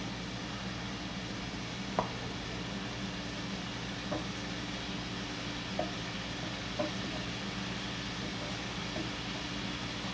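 Constant crackling sizzle of food cooking in a pan, with a few soft knocks spaced through it.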